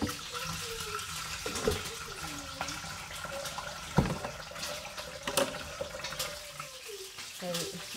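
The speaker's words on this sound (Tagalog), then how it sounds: "Manghugas tayo o kaldero." Tap water runs while a cooking pot is washed, with splashing, clanks of the pot and intermittent flow, fairly faint with a voice talking at times.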